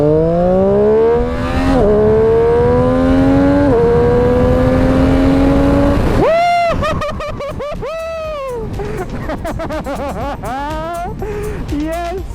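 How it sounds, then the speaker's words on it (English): A 2018 Triumph Street Triple RS motorcycle accelerates hard on the road in sport mode, its engine climbing steeply through several gears with sharp rising pitch sweeps and quick shift breaks, loud and close throughout. "I wonder how fast this bike can accelerate run"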